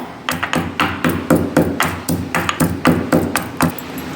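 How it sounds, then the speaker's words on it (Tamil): Roasted coriander and cumin seeds are pounded coarsely with a pestle: a steady run of sharp, ringing thuds, about two or three per second, close and loud. "இப்போ நல்லா இதை இடித்து எடுத்துக்கலாம் இடிக்கும் போது நல்லா ஒரு கோர்ஸ் பொடியாக வரும்"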